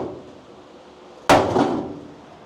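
A single sharp hammer blow rings against a 1965 Mustang convertible body panel, close and loud, then decays with a brief metallic tail after a quiet lead-in.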